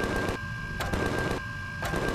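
Bursts of automatic turret gunfire from a base defense in Empyrion - Galactic Survival, two rapid, loud clattering volleys separated by a short gap, with a steady tone running underneath and no talk.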